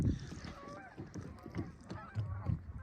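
Several geese honk repeatedly at a distance, overlapping nasal calls in an irregular chorus over a low outdoor background.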